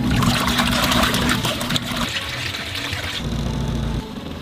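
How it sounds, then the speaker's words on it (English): A portable washing machine's tub fills with water from a hose, a steady rushing and trickling pour that runs continuously, changing tone partway as the level rises. "hook up the water hose, and let the washer fill"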